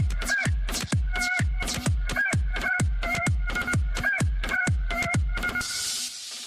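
A rooster crows again and again in a steady rhythm of about a dozen loud, close calls, with no talk over it.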